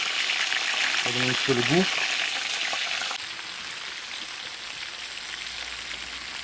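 Onions and thyme frying in a pot for a Réunion-style chicken curry with already browned meat, a steady close hiss of sizzling that drops in level halfway; someone speaks briefly near the start.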